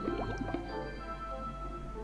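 Watering plants in the mobile farming game Mole's World: soft splashing drips and squishy liquid pours cluster in the first half-second, then settle into a quiet, steady trickle.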